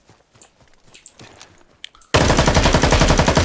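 Gunshots in the battle royale video game Super People: soft, scattered footstep-like taps give way to a sudden, loud stream of rapid automatic fire that continues without a break to the end.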